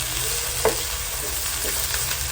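Pork spare ribs sizzle loudly in a pan after being flipped, a steady close-up crackle broken by a few sharp scrapes and stirring knocks.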